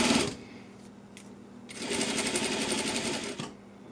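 A sewing machine stitches a pant or skirt pocket bag in a short burst, pauses briefly at a pivot, then runs again in a longer, steady, close whirring rattle.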